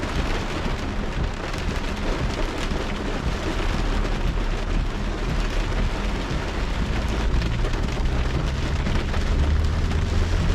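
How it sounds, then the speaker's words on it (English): Heavy rain drums steadily on a 2025 Volkswagen Taos SEL small SUV while driving uphill, a dense continuous roar of rain on the roof and glass with low road rumble underneath. "even in this heavy rain"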